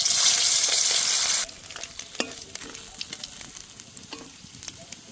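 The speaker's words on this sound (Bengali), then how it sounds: "তেল ভালো করে গরম করে নিয়েছি, এবার মাছগুলো দিয়ে দেব।" Katla fish going into well-heated oil set off a loud, bright sizzle for about a second and a half, which drops suddenly to a softer crackle with scattered pops and spits.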